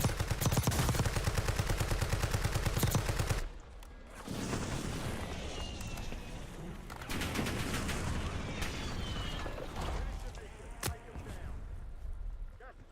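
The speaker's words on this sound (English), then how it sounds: "Hostile airstrike incoming." An enemy airstrike in the Call of Duty Warzone shooter game: rapid gunfire gives way to heavy rumbling blasts and a sustained roar of explosions, loud and dense throughout.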